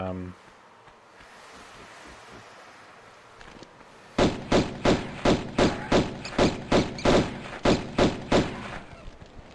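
Pistol gunfire in Tomb Raider 1 Remastered, Palace Midas level; after a quieter stretch, about thirteen loud, evenly spaced shots ring out in a steady rhythm.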